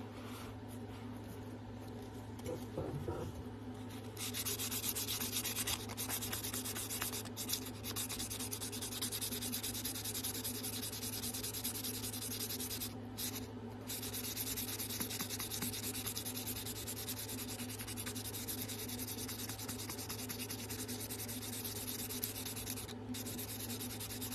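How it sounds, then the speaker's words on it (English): A Buck 501 Squire knife is sanded by hand on a block, giving a steady, continuous scratchy rubbing that runs without break at moderate level under a constant background hum. "Let's get sanded. Lay it up here on this block."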